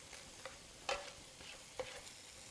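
Parsley being stirred into a topping in a pan, faint sizzling under a few soft scrapes and taps of a spoon against the pan, quiet and close with no voices.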